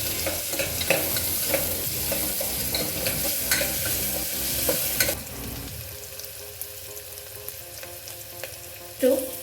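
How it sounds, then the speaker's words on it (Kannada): Onions sizzle steadily in a hot pan while being stirred with repeated scraping clatters, close and loud. The sizzle drops lower partway through. "ಈರುಳ್ಳಿ ಹಾಕ್ಕೋತಾ ಇದ್ದೀನಿ. ಇದು ಸ್ವಲ್ಪ ಗೋಲ್ಡನ್ ಕಲರ್ ಬರೋ ತನಕ"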